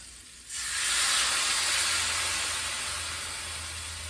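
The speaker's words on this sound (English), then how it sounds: "And then I'm going to add some red wine to that." Red wine poured into a hot pan of pepper steak and mushrooms bursts into a loud steaming hiss and sizzle that holds steady, then eases slightly, close up.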